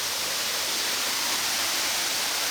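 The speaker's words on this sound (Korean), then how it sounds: "바르드마우 폭포다. 이 폭포는 높이가 약 30m에 폭이 37m로 팔라우에서는" Broad, steady roar of Ngardmau Waterfall in Palau, about 30 m high and 37 m wide, heard close and loud as a continuous hiss of falling water with no breaks and no voices.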